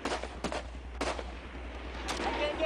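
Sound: gunfire from opposite ridge in Afghanistan firefight

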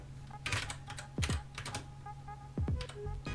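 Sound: typing on a computer keyboard

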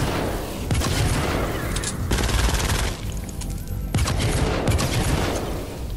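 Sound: pistol gunfire in the video game Fortnite

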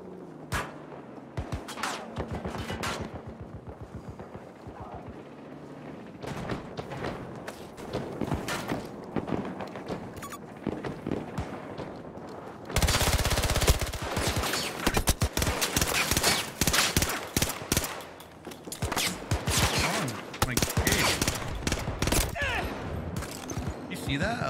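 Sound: gunfire in the video game Battlefield 2042

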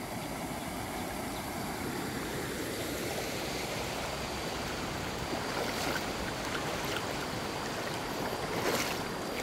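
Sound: water rushing over a waterfall in a stream

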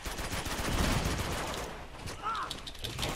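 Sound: weapons fire and grenades in Uncharted 2 video game

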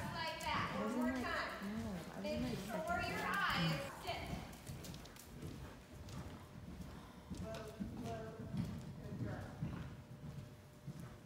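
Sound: horse hooves clip-clopping during jumping lesson

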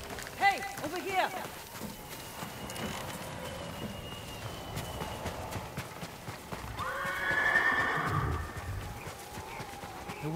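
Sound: horses neighing in video game Ghost of Tsushima

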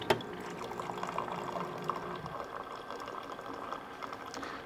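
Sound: bean-to-cup office coffee machine brewing coffee

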